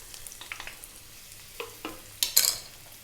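Onions and garlic go into olive oil in a pan over medium heat, giving a quiet sizzle broken by a few soft clinks and a sharper burst of crackling near the end, close and without talk.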